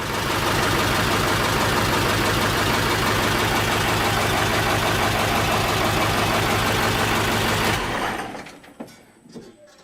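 A Ford 7.3 Powerstroke diesel in a 1972 Mitchell motorhome idles loud and close just after its first start, a dense steady clatter that cuts off abruptly near the end, leaving faint rattles and quiet.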